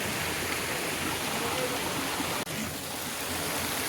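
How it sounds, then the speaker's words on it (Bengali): Wei Sawdong waterfall in Cherrapunji gives a steady, broad rushing roar of falling water, heard close and constant, with no talk over it. "একদম ঝর্ণাটা পড়ছে আর আমি এখানে বসে আছি।"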